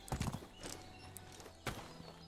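Horse hooves clopping while riding in the medieval game Medieval Dynasty, a few quiet thuds in a short burst and then one more, faint and close.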